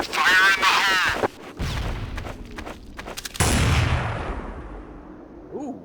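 A grenade blast in Counter-Strike on de_dust2 erupts as one loud, broad burst that decays slowly, following earlier talk and clatter.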